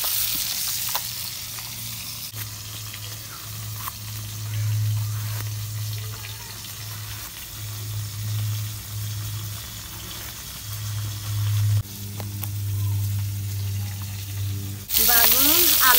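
Rohu fish frying in hot oil in a village-style kitchen, a steady sizzle that runs the whole time over a low humming drone, with a sharper burst of sound at the very end.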